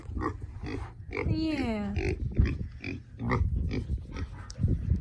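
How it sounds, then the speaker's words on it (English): A big farm pig grunting and letting out a rising, squealy oink among low snorts, with people talking over it throughout. "Oh, big pig's getting up."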